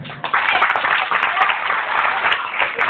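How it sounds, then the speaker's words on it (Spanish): Applause rises from a school assembly at a flag-raising ceremony for Language Day, a dense, bright patter of many hands clapping that holds steady for a few seconds. "Aplausos para la representante del Estrato 3."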